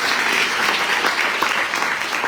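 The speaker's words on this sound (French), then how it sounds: "je vais vous laisser encore une fois applaudir très très fort" A large audience claps loudly and steadily for a cycling team being presented at the Tour de Guadeloupe, dense applause filling the whole stretch with no pause.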